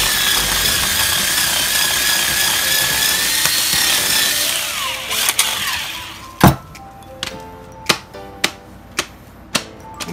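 A power drill whirs steadily for several seconds boring holes into bottles packed with mushroom substrate for stag beetle larvae, then a series of sharp clicks and knocks follow at intervals, close by.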